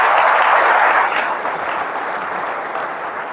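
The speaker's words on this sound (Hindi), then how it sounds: "एक बार उस बच्चे के लिए ताली बजा दें।" An audience at a Hindi talk to school and college youth claps for a high-achieving student, a dense, loud burst of applause that swells at first and then eases slightly while carrying on steadily.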